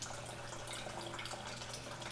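Water trickles steadily from a Sloan toilet flush valve under repair, a faint continuous splashing flow with a low hum beneath it, and no speech.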